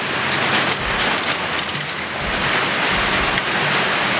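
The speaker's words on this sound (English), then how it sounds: "Wow, it's absolutely raining out there." Heavy rain pours outside in a steady, dense hiss, with a few brief clicks and knocks from a nearby workshop where a Suzuki GS550 is being worked on.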